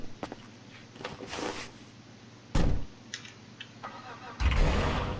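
Car engine starting in the GTA V Online video game, a loud burst of cranking and revving near the middle and again at the end, with quieter idle rumble and clicks between.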